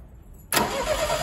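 A car engine's starter motor cranks and the engine catches, a sudden loud close whir-roar that begins after half a second of quiet and holds steady to the end.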